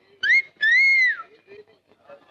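A man gives a wolf whistle at a woman named Paro, two sharp, loud whistled notes, a short one then a longer rising-and-falling one, close by with faint background sounds afterward.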